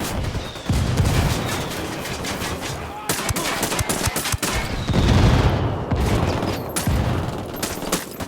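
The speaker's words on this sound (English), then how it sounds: "call the rebels for mortar fire." Rebel fire in Ghost Recon Wildlands, a video game, called in as mortar support: dense, rapid bursts of gunfire mixed with heavier booming impacts, loud and continuous, with brief voices breaking through now and then.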